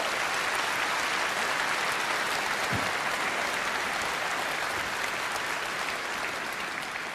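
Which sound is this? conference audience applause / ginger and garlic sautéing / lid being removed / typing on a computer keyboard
conference audience applause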